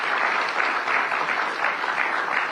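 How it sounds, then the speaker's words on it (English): Steady applause from an audience welcoming panelists onto the stage at an investment forum, dense and continuous, filling the whole moment with no voices standing out. "Please give them a big, big round of applause."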